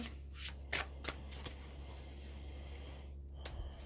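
Colorful oracle cards are handled and shuffled, with soft rustles and a few sharp flicks and slaps as one is drawn from a pile, quiet and close over a low steady hum.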